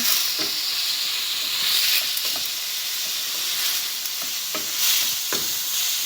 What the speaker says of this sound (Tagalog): Lutuin po muna natin ng very light yung ating squid